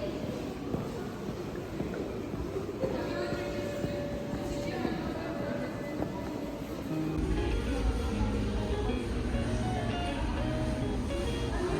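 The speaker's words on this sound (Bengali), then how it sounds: "এটা হলো কাজান মেট্রো" Kazan metro train rolling along, a continuous loud low rumble and rattle from inside the carriage, with a shift in tone partway through as the ride changes.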